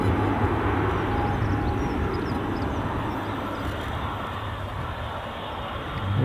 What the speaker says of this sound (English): You can hear another ATR